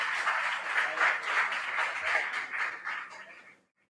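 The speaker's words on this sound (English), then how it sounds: "A round of applause for them." Applause from an audience at a school competition, a dense wash of clapping that holds steady for about three and a half seconds and then stops abruptly into silence.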